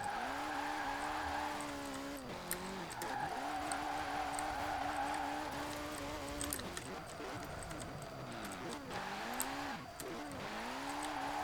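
A car drifts in second gear in the racing game Forza Horizon 4, the engine holding a wavering, sustained high-revving note with tire squeal, rising and dipping as the slide continues, with a voice occasionally talking over it.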